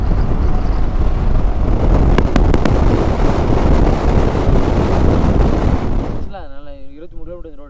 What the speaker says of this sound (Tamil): சரியான காற்று வேற.